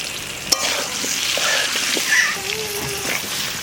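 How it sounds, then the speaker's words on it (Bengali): Potatoes sizzle steadily in hot oil in a pan while cooking a Bengali village-style green jackfruit biryani, with a bright, continuous crackle and a few stirring knocks throughout. "আলুটা ভাজা হয়ে গেছে।"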